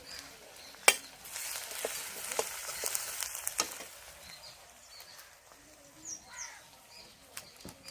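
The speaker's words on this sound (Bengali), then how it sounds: "তেজপাতা, লঙ্কা, শুকনো লঙ্কা দিয়ে দিয়েছি তেলে।" Bay leaves and dried chilies sizzle in hot oil with a soft, crackling hiss, sharp pops and spatters breaking through now and then, fairly faint and close.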